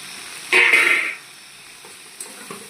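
A potato and soybean curry is stirred in a hot pan, giving a short burst of sizzling and scraping. A faint hiss follows.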